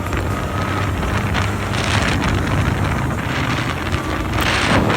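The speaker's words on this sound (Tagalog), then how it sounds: "maaraw siya pero mahangin" Strong wind buffets the microphone on a sunny December day in Morocco, a continuous gusty roar that swells and eases with no voices.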